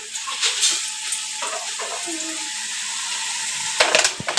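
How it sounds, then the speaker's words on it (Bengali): Potatoes fry in a pan with a steady, soft sizzling hiss, joined by a few light clinks and rustles near the end. "ওইদিকে তো আলু ভাজাই হচ্ছে"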